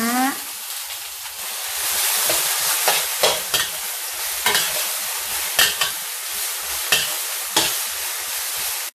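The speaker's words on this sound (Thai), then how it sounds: "ผัดไปพอสุกนะคะ" Mixed vegetables including carrot, bean sprouts and Chinese kale are stir-fried in a pan for a vegetarian dish, a steady hiss of frying under repeated scraping strokes of a spatula against the pan, close and fairly loud.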